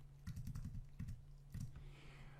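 Keyboard shortcut keys pressed on a computer keyboard: quick clusters of close, soft key clicks in several short bursts over a steady low hum, no talking.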